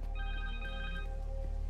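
Cell phone ringing in the Spider-Man 2 video game: a faint, brief electronic ring tone with a few sustained pitched notes over a low background hum.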